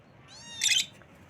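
A parrot gives a brief, faint call, a short squawking burst over quiet background.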